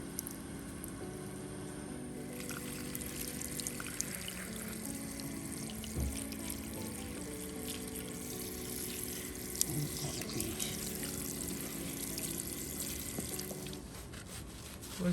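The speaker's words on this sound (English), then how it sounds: "We're gonna turn the water on a little bit on the cool side" A salon sink tap runs steadily for the whole stretch, a continuous close rush and splash of water set a little on the cool side for a hair wash, with no one talking over it.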